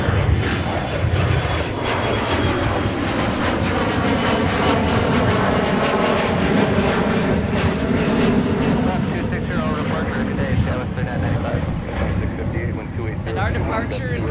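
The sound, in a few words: airplanes departing in strong wind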